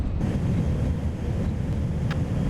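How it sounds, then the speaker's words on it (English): A steady, broad roar from the engines of an Airbus A380 airliner in the Extreme Landings Pro flight game, constant and even throughout with no talk over it. "It is a really good sounding airplane, though."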